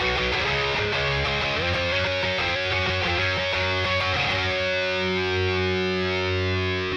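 An electric guitar played through a Boss Katana amp with chorus and distortion strums a run of choppy rock chords, then lets a final chord ring out, loud and alone.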